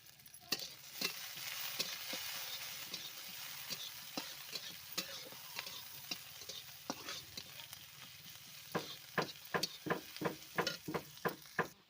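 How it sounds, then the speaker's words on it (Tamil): Onions and dried red chilies fry in a pan for an eggplant and potato stir-fry, with a steady sizzle and a run of sharp spatula scrapes and taps that grow quicker and more regular toward the end, with no talking. "நல்லா கிளறி விட்டுக்கலாம்."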